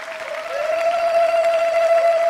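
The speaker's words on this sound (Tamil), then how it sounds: "எல்லாரும் பலத்த கரகோஷங்களை எழுப்புங்கள்" Audience applause on a Vijay TV Diwali special stage show, a thick continuous wash of clapping mixed with a sustained musical tone that holds steady throughout.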